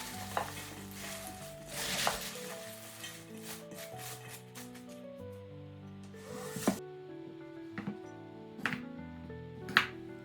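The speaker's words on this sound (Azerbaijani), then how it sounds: "üzərinə 1 yemək qaşığı turşu duzu əlavə edib ehmalca qarışdırıram" Chopped cabbage gently stirred with a spoonful of pickling salt in a basin, giving soft scraping and rubbing strokes with a few sharper knocks, heard close over steady background music.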